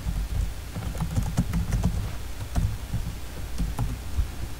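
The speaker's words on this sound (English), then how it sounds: "I'm gonna type YouTube." Keys tapped on a computer keyboard while Java code is typed, a steady run of close, light clicks with a few sharper strokes over a soft background hiss.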